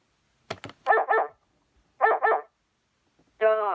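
A dog barks in quick pairs, a few sharp yips, then two double barks, ending in a drawn-out higher whine, close and clear against silence.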